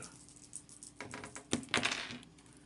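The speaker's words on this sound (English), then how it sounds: "As I shuffle and reset our exploration deck for the next round" Exploration deck cards for the Shadows of Brimstone: Forbidden Fortress board game being shuffled by hand, a soft run of light papery clicks and riffles that swells into a denser, louder flurry near the middle before easing off.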